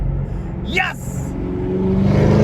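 A Chevrolet Camaro ZL1 1LE with a Corsa Extreme Plus exhaust blips through quick downshifts from inside the car, then the engine note rises steadily and loudly while an occupant exclaims over it.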